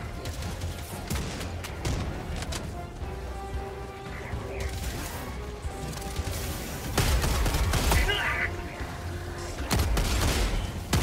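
Autocannon fire in the video game Helldivers 2 comes as bursts of heavy, thudding shots and mechanical clatter against a battle din, growing louder and denser toward the end with scattered impacts.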